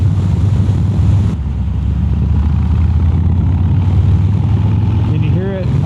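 Harley Davidson Street Bob V-twin with an S&S Grand National slip-on exhaust, a steady loud low rumble running throughout, nearby and continuous.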